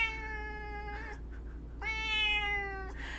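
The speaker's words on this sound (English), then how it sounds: "So you're the noisy kitty." A house cat meows twice, close and clear, with two drawn-out, slightly rising calls separated by a short pause over a faint low hum.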